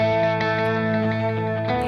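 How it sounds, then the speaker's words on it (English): Electric guitar played through a reverb delay pedal with stacked reverbs and delays, a sustained washed-out chord ringing steadily with shimmering tails, loud and alone. "It's another reverb delay pedal. Let's hear that one."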